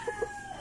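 An Indio Gigante chicken gives two short clucks close by, followed by a faint, drawn-out call against a quiet, steady background.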